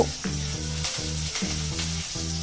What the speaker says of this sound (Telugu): వీటిని కొద్దిగా ఫ్రై చేసుకోవాలి